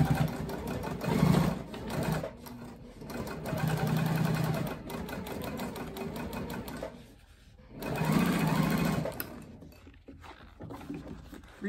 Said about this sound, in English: I'm gonna go to the machine and I'm gonna stitch